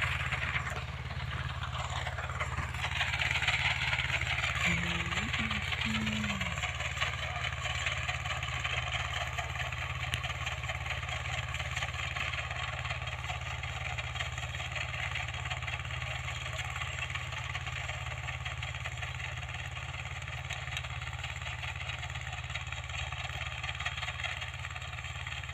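A Mahindra tractor's diesel engine, a Jivo 245 DI or Turbo 595 DI used with a rotavator on a farm, runs at a steady idle throughout. Its loud, continuous drone holds nearly unchanged with no talking.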